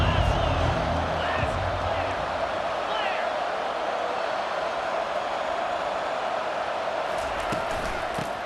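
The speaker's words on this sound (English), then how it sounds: "this home crowd is fired up and ready to make a difference today" A home crowd roars steadily at a college football game, a dense, continuous wash of cheering and shouting that holds at a loud level throughout, with a commentator's voice running over it.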